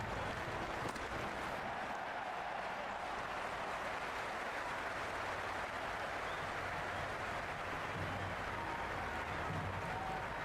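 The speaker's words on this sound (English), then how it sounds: "It's pretty noisy at the ground." Cricket ground crowd noise in the video game Cricket 26, a steady, dense roar of spectators with scattered applause that holds at an even level throughout.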